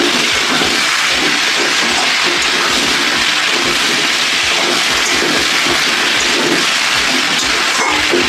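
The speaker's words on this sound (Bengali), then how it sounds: "মোটামুটি ভাজবো খুব একটা ভাজবো না কারণ পেঁপে কাঁচা গলার গুণটা চলে যাবে" Raw papaya fries in a hot pan with a loud, steady sizzling hiss. The spattering texture stays continuous and close throughout, with no pauses and no voices.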